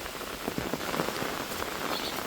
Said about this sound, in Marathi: मस्त असं पाऊस पडतो